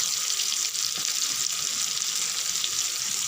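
Pomfret fish frying in oil with curry leaves gives a steady, dense sizzle that stays loud and even throughout, close up with no talking.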